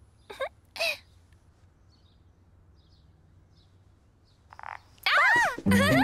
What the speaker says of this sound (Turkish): Bu bir bahçe kurbağası